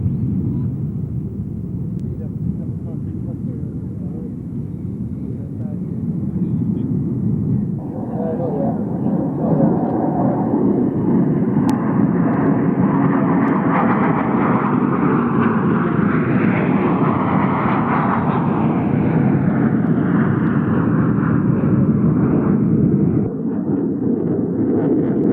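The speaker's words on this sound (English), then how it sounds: "This Boeing E-3 Sentry, often referred to as AWACS, is operated by NATO for airborne early warning and control." A Boeing E-3 Sentry AWACS aircraft operated by NATO flies past at an air show, its jet engines a loud sustained roar that swells and rises in pitch midway, with a voice speaking over it.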